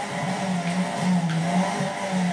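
Car tires squealing in a sustained drift in the racing game Need for Speed Most Wanted, a loud continuous screech with engine drone beneath, steady and without talk.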